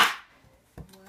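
A kitchen knife chops carrots on a chopping board while making hummus, with one crisp, close chop at the start and a second sharp cut just under a second later.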